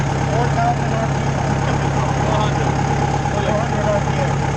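A Mayco LS-40 concrete pump's engine idles in a steady, loud, even drone with a low throbbing hum, holding constant throughout.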